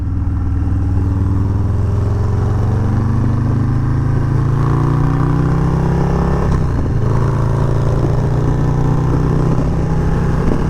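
Harley-Davidson Low Rider S motorcycle engine while riding, a loud steady low drone rising through the gears with a brief shift dip partway, heard close with wind and no talking.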